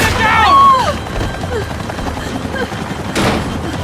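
Gunfire in the video game Max Payne 3 crackles as a loud burst of shots during a chaotic firefight, with a shouted voice over the start and dense noisy bursts continuing, then another strong blast near the end.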